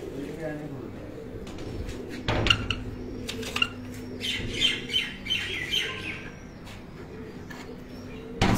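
Racing pigeons coo and flutter close by at a pigeon sports festival at a marriage hall in Gujrat, among clattering and handling noises with people talking throughout.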